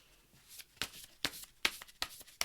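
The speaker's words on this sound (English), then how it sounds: "So I like to shuffle." Oracle cards shuffled by hand with soft, close, rhythmic slaps and papery swishes recurring roughly every half second, fairly quiet.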